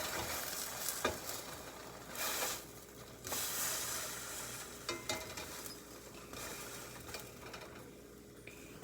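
A grilled cheese sandwich is flipped in a pan: a soft, quiet sizzle runs underneath a few sharp spatula clicks and scrapes.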